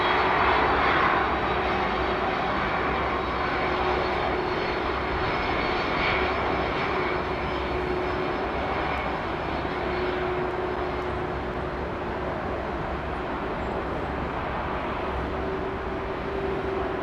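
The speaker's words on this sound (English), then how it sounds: "the noise that we hear, the howl, the Wookiee howl that we've talked about" Loud, sustained howling roar of a jet aircraft engine at London Heathrow Airport, a steady tonal whine over broad rumble that fades slightly toward the end.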